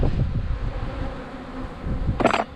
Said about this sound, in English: Put these bees to work.